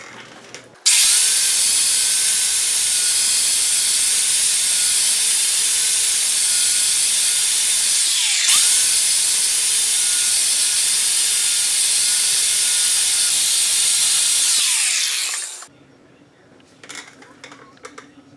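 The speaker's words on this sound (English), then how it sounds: "I've got a grinder with a flap wheel on it, and I'm going to see if I can grind this surface smooth" An angle grinder fitted with a flap wheel grinds the surface of an Audi Q5 front brake caliper, a loud steady hiss lasting about fifteen seconds with one brief dip midway before it stops.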